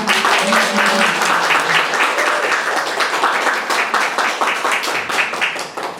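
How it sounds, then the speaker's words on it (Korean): A press conference audience gives an actress a loud, warm round of applause, dense steady clapping that fills the room for several seconds and then begins to thin. "카리스마 넘치는 연기와 성별, 장르의 경계를 뛰어넘는 도전적인 행보를 보여주고 있는 차지연 배우님을 여러분 뜨거운 박수로 소개하겠습니다."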